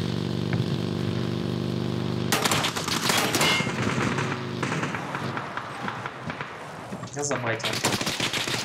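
Loud, rapid bursts of automatic gunfire ring out in the battle royale game PUBG, coming in quick repeated volleys. Someone speaks briefly at the start.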